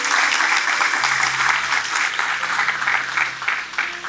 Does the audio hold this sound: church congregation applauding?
yes